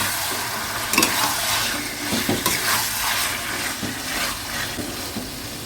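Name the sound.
marinated chicken stirred and frying in a kadai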